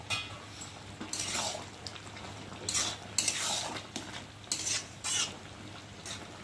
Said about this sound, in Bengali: ভালো করে নেড়ে দেবো, ঢাকাটাকে রাখি